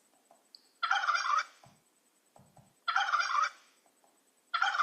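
A turkey gobbles loudly three times in rapid rattling bursts, evenly spaced with quiet gaps between, clear and close.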